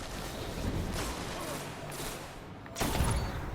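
Gunfire in the video game Destiny crackles in a dense burst, with a sharp louder shot near the end over steady background noise and faint talk.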